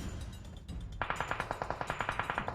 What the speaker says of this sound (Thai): มีเสียงปืนแบบนี้แสดงว่าคุณตี้นะครับ